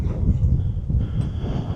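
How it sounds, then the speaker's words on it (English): Gusty wind buffets an outdoor microphone in a steady low rumble lasting the whole moment, loud and close with no other sound standing out. "it's pretty windy"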